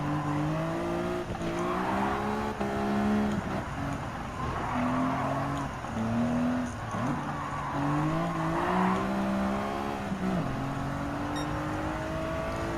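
A Greddy Fugu Z race car runs a time trial at Willow Springs Raceway in Gran Turismo 7. Its engine drones loud and steady, the pitch rising and dropping through gear changes and corners, with no talk.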